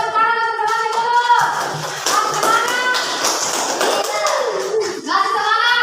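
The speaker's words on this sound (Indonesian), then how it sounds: "Yang lain berikan tepuk tangan untuk temannya dulu" Classmates in a school classroom clap for a group, a brief burst of hand claps under and between children's and a teacher's voices, close and moderately loud.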